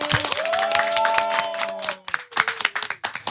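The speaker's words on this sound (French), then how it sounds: "Merci pour un tonnerre d'applaudissements" Audience applause and clapping from a crowd at a live stage show, a dense patter of hands that swells, dips briefly, then picks back up, with a sustained musical tone ringing underneath.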